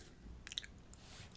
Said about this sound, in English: Sorry, I was chewing.